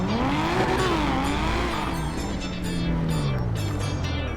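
Toyota Supra with a nitrous mod in GTA 5, its engine revving and whining in pitch as it accelerates and shifts, loud and steady throughout with no talking.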